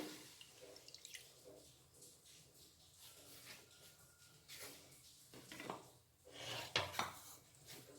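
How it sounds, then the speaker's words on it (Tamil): Freshly squeezed milk from a small grated coconut is poured into a pan for laddu, giving soft dripping, splashing and light scraping with no talk. "ஒரு சின்ன தேங்காயை துருவி பால் புழிஞ்சு வச்சுருக்கேன் அதை இதில் சேர்த்துட்றேன்"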